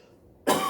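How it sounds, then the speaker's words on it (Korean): A single sharp cough bursts out after a near-silent moment, loud and close, ending the short clip. "왜 갑자기 기침이 나지?"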